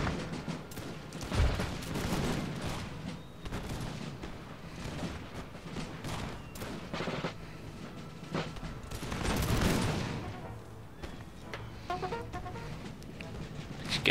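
Musket volleys ring out across a Napoleonic-era battlefield in the strategy game Empire: Total War, a dense, rolling crackle of gunfire with heavier bursts near the start and middle, blended with battle ambience.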